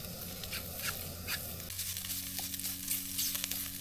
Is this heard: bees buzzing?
no